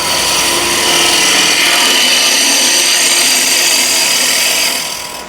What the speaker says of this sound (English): I'm just showing how I would use SPUR point scraper.